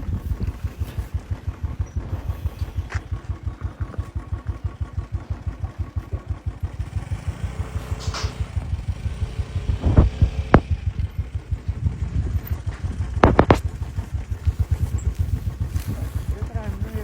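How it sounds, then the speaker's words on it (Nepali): A scooter engine throbs steadily as it rides over a stony, rocky road, with occasional clunks and bumps from the rough surface breaking through the continuous motor drone. "बाटो खासै अप्ठ्यारो त होइन, तर ढुङ्गाहरू भएर स्कुटरमा अलिक गाह्रो भयो जस्तो भएको।"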